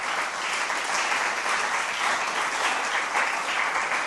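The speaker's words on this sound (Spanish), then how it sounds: "denle un aplauso a Dios, por favor" A church congregation claps steadily in sustained applause, dense and even throughout, with no voices standing out.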